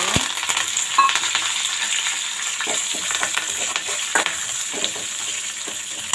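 Onions, green chillies and curry leaves frying in a pan with lentils and mustard seeds, a loud steady sizzle broken by irregular clicks and scrapes of stirring, close up with no talk.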